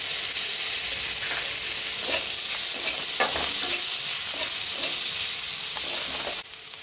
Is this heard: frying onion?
yes